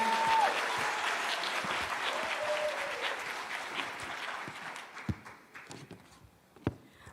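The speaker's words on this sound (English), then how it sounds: "Can we give an applause to the scholars of 2026 one more time?" A school graduation audience claps loudly and continuously, the applause thinning out toward the end into a few scattered claps.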